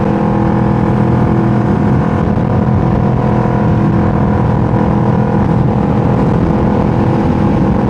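A Kawasaki 650 motorcycle engine drones steadily while riding, a loud, constant hum with wind rush and no breaks, heard up close throughout.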